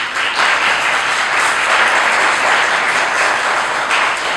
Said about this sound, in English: Folks, we ask that you not applaud or